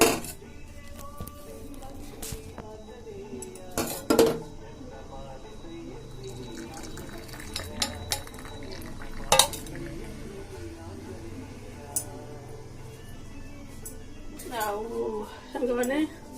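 Tea is strained and poured while dishes and cutlery clink and knock in several sharp bursts over trickling liquid, with a voice talking now and then in the background.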